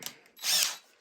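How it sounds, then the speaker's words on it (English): Power drill boring into a wooden board for a bird feeder, a short tap followed by a single brief, whirring burst of the motor that rises and fades within a second, up close. "Keep your drill in, flip it over."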